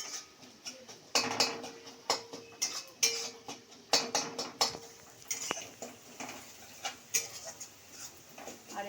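Onions frying in a pan for a Bengali chana masala curry are stirred with a utensil, giving sharp irregular metallic clinks and scrapes against the pan under a soft background hiss, with no talking.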